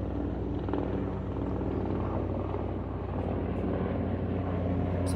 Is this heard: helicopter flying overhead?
yes